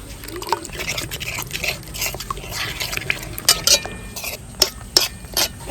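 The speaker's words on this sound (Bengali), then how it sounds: "এখন আমি বাটি ধোয়ার জলটা দিয়ে দিচ্ছি" Bowl-rinse water poured into a paneer spice mixture with sugar, salt and butter, soft close splashes and trickles with light clinks of a bowl and spoon, ending in a few brighter drips.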